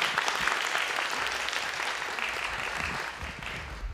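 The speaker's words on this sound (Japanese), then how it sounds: "拍手お願いします" A room full of people at a para-athlete photography workshop claps steadily, a dense round of applause that holds throughout and eases slightly toward the end.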